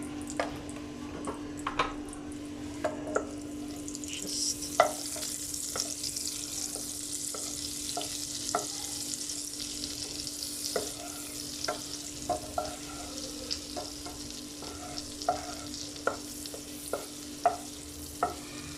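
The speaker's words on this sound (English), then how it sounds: "For the bhaji, I just added a tablespoon of oil and then a tablespoon of butter" A tablespoon of oil and a tablespoon of butter heat in a pan for bhaji, giving a steady close sizzle with scattered small pops and crackles throughout.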